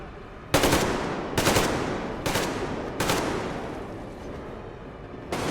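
Gunfire in the video game Metro Exodus during an ambush: four loud, sharp shots roughly a second apart, each with a ringing, decaying tail, and another shot starting at the very end, with no talking.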